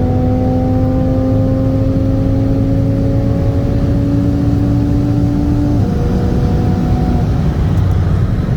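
A tuned 2018 Mercedes C63 S AMG on E30 and a 2018 Audi RS3 on E85 racing flat out in third gear, engines droning loudly and rising steadily in pitch, then a gear change partway through before climbing again.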